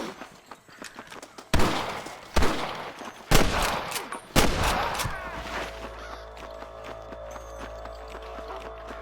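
Sniper gunfire in the Western video game Red Dead Redemption cracks out as a series of sharp, echoing shots spaced about a second apart, with scattered clatter in between, then fades into a low, steady rumble.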